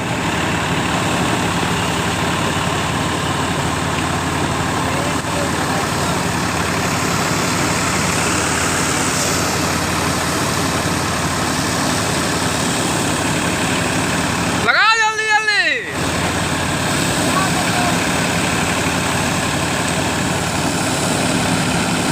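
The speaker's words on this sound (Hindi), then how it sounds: "ये दादा चल रहा ट्रैक्टर।" A Sonalika tractor engine runs steadily in a farm field during mustard harvesting, a constant low droning hum that lasts the whole stretch, with a brief chirping burst partway through and faint voices in the background.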